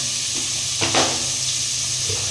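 Onions fry in oil with salt in a pan, making a loud, continuous sizzle with a brief swell of stirring near the middle. No one speaks.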